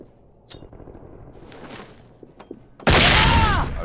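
A flashbang grenade goes off in the SWAT 4 training course, a loud sudden bang with a bright ringing burst following a few quieter thumps and clicks, the blast holding strong for about a second before tailing off.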